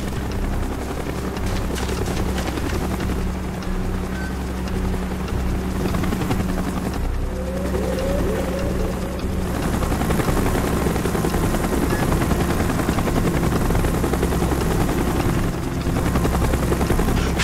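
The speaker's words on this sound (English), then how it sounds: "Chopper's inbound. Move it!" A helicopter roars loudly and continuously overhead in Call of Duty: Black Ops while bursts of gunfire crackle through the rotor noise, with no talking.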